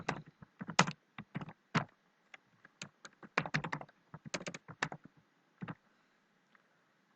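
Typing on a computer keyboard while entering HTML code, a close, quiet run of irregular key clicks and taps in short bursts with brief pauses, no talking.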